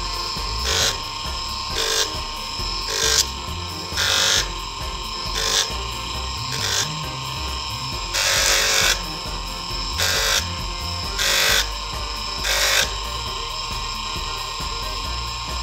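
A brass and copper pendant is sanded with 600-grit sandpaper, a steady, continuous scratchy hiss with regular rhythmic swells from back-and-forth strokes, up close with a humming background.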